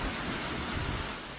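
Heavy rain and wind from Typhoon Uwan make a dense, steady broadband roar with no breaks, loud and constant throughout.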